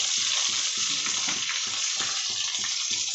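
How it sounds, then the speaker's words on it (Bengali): Potatoes with onion and ginger-garlic paste fry in a pan, giving a loud, continuous sizzle with a steady rhythmic stirring scrape running throughout. "আলুটা ভালো করে ভেজে নেব। আলু পেঁয়াজ অল্প একটু আদা রসুন বাটা দিয়ে দেবো।"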